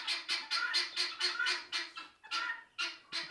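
A flock of guinea fowl in a farmyard give agitated, harsh rhythmic calls, a rapid run of repeated squawking notes close by, loud with brief gaps.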